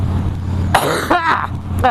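A short burst of coughing close up inside a motorcycle helmet, two or three rough hacks in quick succession over a low background hum.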